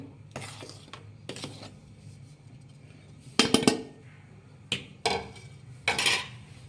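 Rice tipped into a pan, with a few scattered clinks and short bursts of grains rattling against the metal at intervals.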